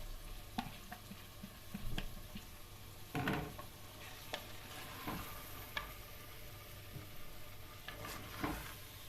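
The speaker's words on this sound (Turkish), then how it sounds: "ve bir güzel karıştıralım" Soaked keşkek wheat is stirred in a clay pot, scraping spoon strokes and soft grainy shuffles at an uneven rhythm over a faint background hiss, with no talking.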